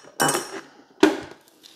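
Two brief scraping, clinking strokes of a utensil against a bowl while sugar is stirred in, separated by a pause, close and clear with no talk.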